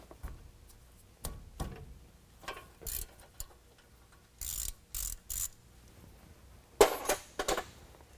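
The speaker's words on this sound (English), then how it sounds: "now I'm going to use a 10 millimeter and take the ABS line bracket loose from the knuckle" A 10 mm wrench loosens the ABS line bracket on the steering knuckle of a 2021 Ford F-150, heard as scattered close metallic ratcheting clicks and clanks in short bursts with quiet gaps between.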